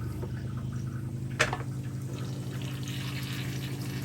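A newly installed toilet flushing and refilling, heard as a steady rushing water flow under a low hum, with one sharp clunk early on, continuous and fairly close, no talking.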